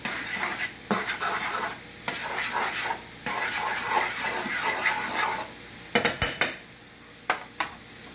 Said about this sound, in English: Now I'm just going to continue to turn all this, keep stirring it